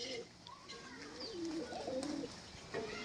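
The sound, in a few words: pigeons cooing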